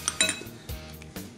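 A spoon clinks and scrapes against a bowl of grated cheese, garlic and mayonnaise in a few quick strokes, close up, with light metallic chinks.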